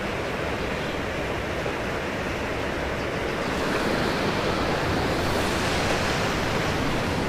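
Water rushing steadily down a sloped channel on the Norfolk Broads, once driven by a paddle wheel: a loud, dense and unbroken roar that swells slightly partway through, with no voices.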